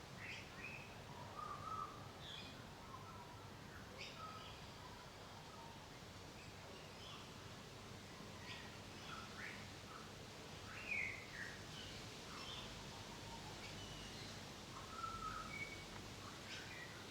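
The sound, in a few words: distant bird calling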